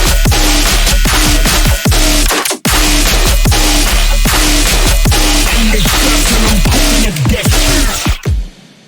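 Reggaeton-style dubstep drop section with punchy drums and bass shots in a steady syncopated groove, dense and loud throughout, closing on a short turnaround fill before a brief pause.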